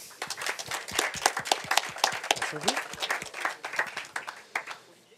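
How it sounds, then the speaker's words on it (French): Audience applause at a French Tech Day startup pitch competition, a dense run of many hands clapping for about five seconds at steady strength, with a voice faintly audible underneath. "Merci, on peut l'applaudir."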